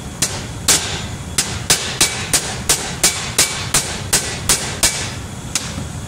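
Brass bushings are hammered into an IH tractor seat with about fourteen sharp, evenly spaced metallic strikes close by, a few louder blows standing out, with no talking.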